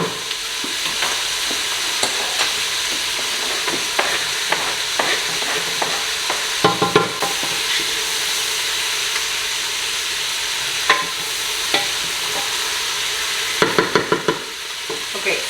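Garlic sizzles steadily in a hot pot of chicken soup base, with repeated close clinks and scrapes of a spoon stirring through the fry over about fifteen seconds.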